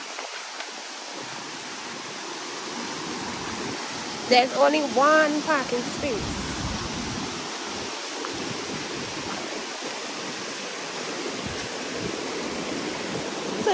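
River water at Kramaku River in St. Vincent and the Grenadines rushes in a steady, broad wash throughout, with a person briefly speaking over it partway through.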